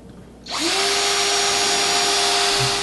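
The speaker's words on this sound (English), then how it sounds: "take a 1/4 inch drill bit and go ahead, we're going to drill holes on all 3" A power drill with a 1/4 inch bit spins up after a brief quiet moment and whirs steadily at high speed, close and loud, boring holes into material.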